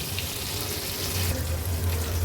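Fish pieces, surmai among them, fry in a pan over a medium flame, giving a steady, hissing sizzle that runs the whole time at moderate loudness, with no talking over it.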